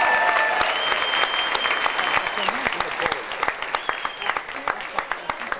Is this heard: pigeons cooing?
no